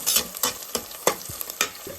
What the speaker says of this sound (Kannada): ಇದೊಂದು ಸ್ವಲ್ಪ ಫ್ರೈ ಆಗೋದಕ್ಕೆ ಬಿಡೋಣ.